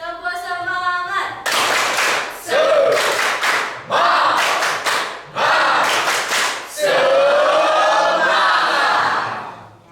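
Schoolchildren in a classroom clap the rhythmic 'tepuk semangat' spirit chant, bursts of loud group clapping mixed with shouted chanting voices, repeated in several rounds with brief pauses between.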